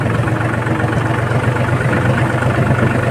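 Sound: mini tractor engine idling after being started

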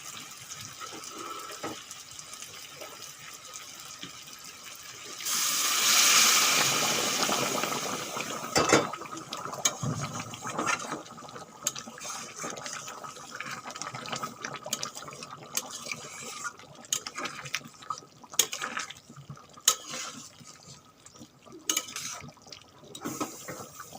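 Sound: pouring hot water into mutton curry pot

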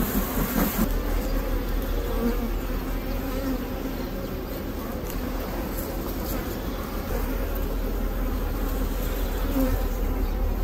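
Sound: honey bees buzzing while a beehive is opened

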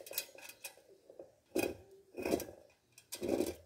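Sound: cutting the excess ends while tightening motorcycle wheel spokes

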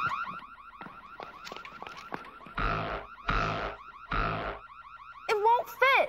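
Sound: alarm sounding

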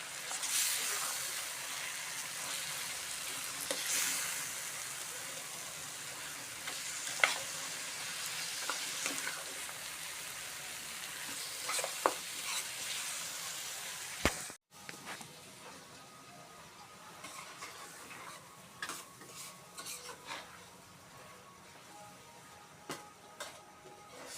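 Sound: stirring fenugreek and potato curry in a frying pan

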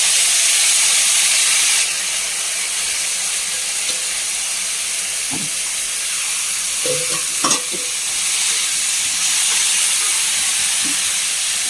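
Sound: hyacinth beans sizzling as added to hot oil with chillies

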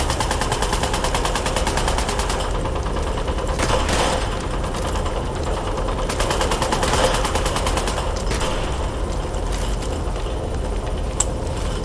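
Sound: gunshots in Fallout 76 Battle Royale video game

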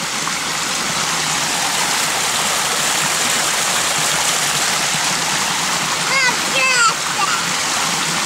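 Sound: flowing stream water with hands in it

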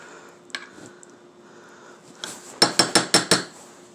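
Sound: stirring Chef Boyardee Beefaroni in a pot

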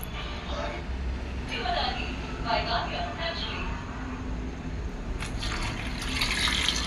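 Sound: pouring water into cooking pot

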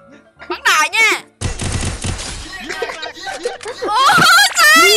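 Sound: gunfire in the video game Free Fire

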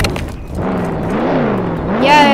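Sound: car driving in Roblox Jailbreak video game

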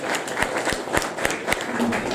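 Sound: applause for team captain Ahmed

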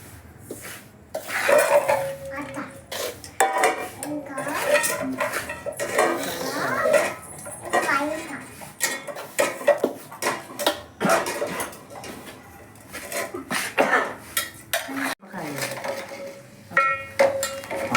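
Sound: spoon mixing salt, chili and spice powders in a bowl

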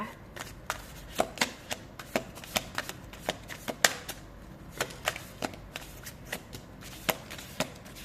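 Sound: shuffling tarot cards and drawing one card

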